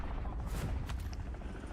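Helicopter in the video game Call of Duty Warzone, a steady loud rotor and engine roar filling the whole stretch, with a few brief mechanical clanks on top and no talking.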